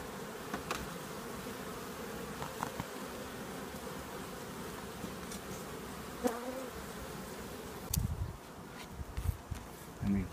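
Honey bees buzz in a dense, continuous hum around an open hive during requeening in Vermont, with occasional handling knocks and bumps near the end.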